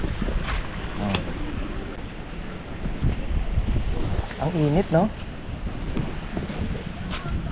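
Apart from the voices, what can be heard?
sea waves and wind at the shore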